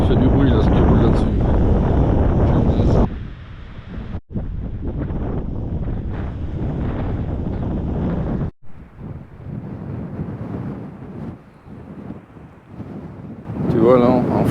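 A camper van drives along the Passage du Gois, a tidal causeway, with a constant road and tyre rumble under heavy wind buffeting, broken by brief cuts, and a voice talking over it.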